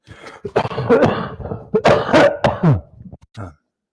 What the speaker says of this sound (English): I was hoping that this cough and everything would be gone